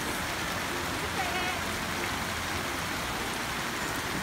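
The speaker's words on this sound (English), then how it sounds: "It's raining." Rain falls steadily on a festival day in the Philippines, a dense, constant hiss of drops that fills the whole stretch at an even, fairly loud level, with talk faintly present beneath it.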